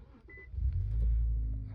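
An Infiniti Q50 3.0T with a newly replaced alternator cranks briefly and its engine catches, settling into a loud, low, steady idle close by.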